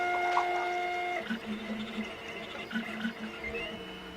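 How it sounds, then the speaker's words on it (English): A home printer runs at low level, with a steady whine giving way to rhythmic mechanical chugging and feed clicks, heard faintly as if picked up through another computer's microphone. "I can hear my printer through my headphones from your computer"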